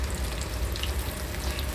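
Bingo-flavoured chicken deep fries in hot oil with a dense, even bubbling hiss and a low rumble, steady and close throughout this short moment.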